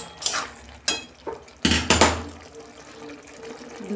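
Water drained from a pot of boiled potatoes in a home kitchen: a few sharp metallic clanks of pot and lid, then bursts of splashing pour, close and fairly loud, settling into a soft trickle.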